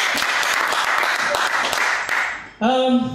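Audience applause after a poetry slam performance, a steady crowd clapping that drops away, followed by a short spoken moment.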